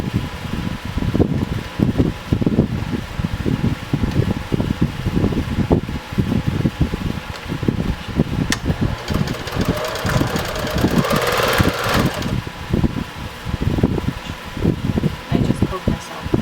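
A sewing machine stitches fabric and batting for a laptop bag, running steadily with a rapid, rhythmic mechanical whir and clatter, close by, with brief pauses and no talking.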